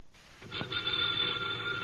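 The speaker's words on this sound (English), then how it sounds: "the ringing of that phone bell brings you mystery, adventure" An old-fashioned telephone bell rings on a vintage detective radio drama broadcast, one sustained bright ring that starts abruptly after a short quiet moment and holds loud to the end.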